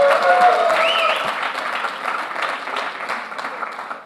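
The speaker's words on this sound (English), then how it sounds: "So you should have a big cheer for all of them." An audience at a large corporate leadership summit in India claps and cheers, a dense burst of applause that starts loud and slowly tapers off.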